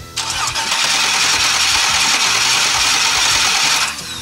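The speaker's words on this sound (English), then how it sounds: "Prime it a couple more times and let's see if this bad boy is just gonna fire right up." An LS-swapped Ford Mustang engine cranks and catches, a loud steady rasping churn with a rapid pulsing beat that runs for about four seconds before cutting off, no voices over it.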